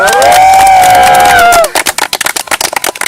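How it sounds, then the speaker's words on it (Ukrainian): A crowd at an archaeological expedition gathering bursts into cheering and rhythmic clapping after a sung line, loud and close, the applause continuing in uneven bursts. "овации!"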